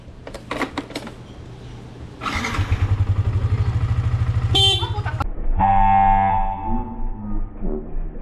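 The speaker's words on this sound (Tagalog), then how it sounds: "Busina pa lang yun." A motorcycle engine idles and revs while a horn honks in bursts, ending with a sustained loud honk up close.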